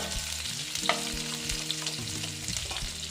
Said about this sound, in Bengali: মাছগুলো প্রায় ভাজা হয়ে গেছে এবার না আমি মাছগুলোকে তুলে নিচ্ছি